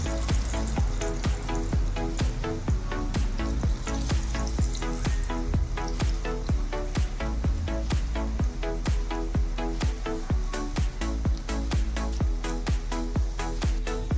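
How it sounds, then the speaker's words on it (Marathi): Sprouted moong cutlets shallow-fry in a pan over a medium flame, giving a steady, close sizzle with crackling pops throughout and no voices. "गॅस एकदम मिडियम फ्लेमवर ठेवायचा आहे"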